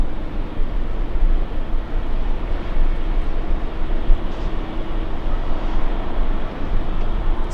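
A jet bound for JFK rumbles at LAX with a steady, loud, droning roar and a faint engine hum held at a constant level, heard up close without any voices.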